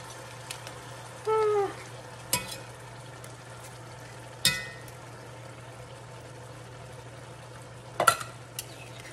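Lasagna ingredients and liquid hiss faintly in a Dutch oven, a low simmering sizzle under a few sharp clanks and scrapes of a utensil against the pot, no talking.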